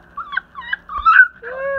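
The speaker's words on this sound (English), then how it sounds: "Hey, puppy, puppy." A puppy whimpers up close in a run of thin, high, wavering whines and yips, ending in a longer drawn-out cry, with no talk over it.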